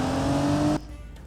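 A heavier car drives over potholes during a speed test, making a loud, steady rumble of engine and road noise that cuts off abruptly near the end, leaving a quieter background.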